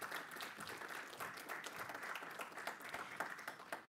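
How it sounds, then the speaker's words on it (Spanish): A conference audience gives warm applause to welcome panelists at a forum on democratization in Latin America, with continuous, fairly soft clapping that fades out sharply at the end and no voices. "Les damos una cordial bienvenida y un caluroso aplauso en esta mañana."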